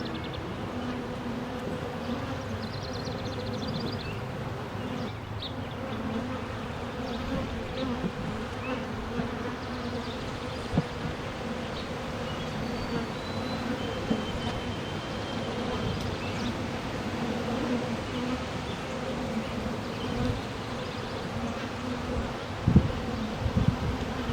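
Honeybees drone steadily during a hive inspection as the super is worked through, a continuous close buzzing with faint rustles and a few small knocks from handling the equipment.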